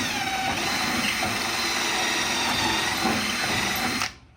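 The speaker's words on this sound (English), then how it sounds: "I'm going to drill a pilot hole." A power drill bores a pilot hole for a bolt while a rail is fitted to a shed, a steady loud whine that runs without a break for about four seconds and then cuts off abruptly.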